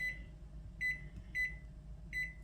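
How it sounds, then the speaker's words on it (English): A kitchen timer being set for fifteen minutes gives four short, clear electronic beeps at uneven intervals, quiet but distinct over faint room hum while chicken wings cook. "I'm going to set a timer for 15 minutes."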